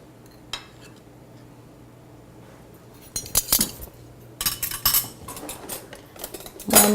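A spoon clinks and scrapes against dishes and pans while food is served, quiet at first, then a cluster of bright metallic taps and rattles close by.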